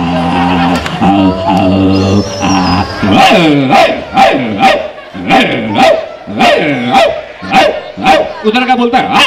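A man imitates street dogs barking at each other with a loud, close run of rhythmic voiced barks and yelps that grow faster and more insistent, starting with a few spoken, growly sounds.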